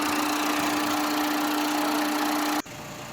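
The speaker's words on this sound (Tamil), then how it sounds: "நீங்கள் பார்க்கணுன்ட்டு தாங்க நாங்கள் இன்ஜின் வீடியோவையும் நாங்கள் காட்டுறோம்." A 2006 Tata Indigo CS diesel car idles with a steady close clatter and hum for a few seconds, then the level drops abruptly near the end.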